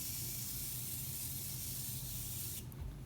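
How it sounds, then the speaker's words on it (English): Continuous setting mist from a Morphe Continuous Setting Mist bottle sprays onto a face in one steady, soft hiss lasting about two and a half seconds, close and quiet, then stops. "I'm going to spray my face with my Morphe Continuous Setting Mist."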